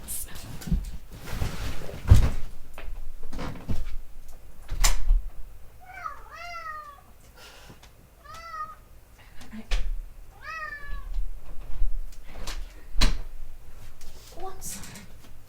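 A cat meows repeatedly in short bursts and rattles at a door, with thuds and knocks from the door scattered throughout, while a person talks intermittently nearby.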